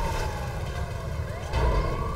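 An ambulance siren wails in the video game GTA, a steady electronic tone rising and falling over background engine rumble, heard alone without talk.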